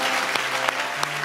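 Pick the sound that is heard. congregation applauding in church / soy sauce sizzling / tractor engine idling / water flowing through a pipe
congregation applauding in church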